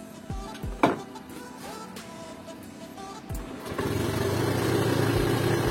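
A Honda Beat 2017 scooter with a misfiring, power-losing engine cranks and fires up, settling into a steady, louder running idle after a few short starter bursts.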